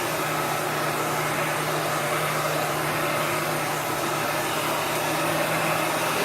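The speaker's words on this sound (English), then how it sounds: "You want to constantly move your heat gun." A heat gun blows hot air in a steady, even whoosh that stays close and unbroken, with no talk.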